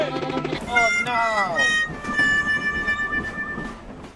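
A train rumbling along with rising and falling whistle-like tones and mechanical clatter, loud and close throughout.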